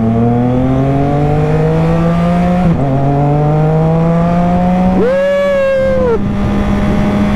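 A motorcycle engine drones steadily while riding, a loud close tonal hum whose pitch slowly climbs, dips at a gear change and keeps rising, with a rider's short excited shout over it.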